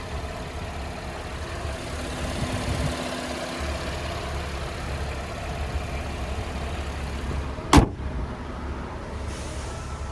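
A 3.6-litre V6 in a 2023 Chevrolet Camaro 3LT coupe idles with a steady low rumble, close and continuous, with a sharp click or door-like thud near the end.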